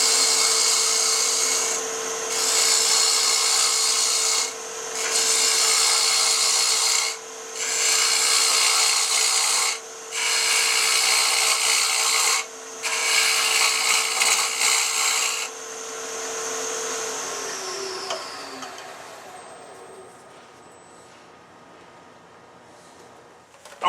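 A 3/8 inch bowl gouge cuts wood on a lathe, turning a faceplate-mounted piece: loud, close, harsh scraping in repeated passes with short breaks. The lathe motor then hums alone and winds down. No talking.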